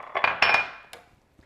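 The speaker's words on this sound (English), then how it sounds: "let me put it in a little bit bigger dish so I can mix in my rhubarb together with my preserves" Rhubarb and preserves scraped from a small dish into a bigger one, a short cluster of close clinks and scrapes of a utensil on the dish that quickly fades into quiet.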